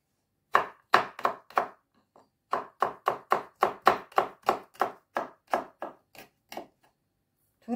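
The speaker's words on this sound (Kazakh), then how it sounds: "чесногымызды турап аламыз." Garlic is chopped with a knife in a fast, steady rhythm of about eighteen close, sharp strokes on a board, with a brief pause partway through and silence around them.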